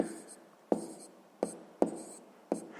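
Pen writing math on paper: soft continuous scratching broken by four sharp taps or strokes at irregular intervals, close and quiet, no talk.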